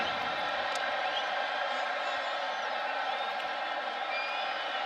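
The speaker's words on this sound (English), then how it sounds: "Crowd worked into a frenzy." A roaring football stadium crowd at an Oklahoma versus Western Carolina game keeps up a steady, loud wash of cheering and yelling, with no clear break.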